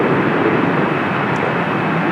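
Air Premia airliner at Washington Dulles airport, a steady, loud broadband jet engine roar holding evenly throughout with no breaks, no talk heard.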